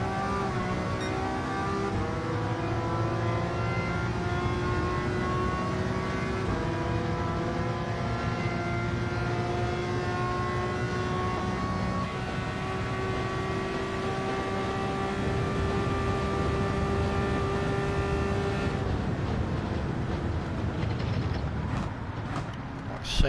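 A Le Mans race car in Gran Turismo 7 holds a long, loud, steady high engine drone with smoothly sliding harmonics, then shifts pitch near the end; no talk over it.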